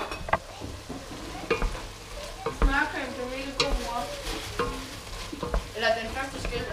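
Food fries and is stirred in a pan at home, with close sizzling under clattering scrapes and knocks from a utensil, plus faint background voices and a few louder metallic bangs.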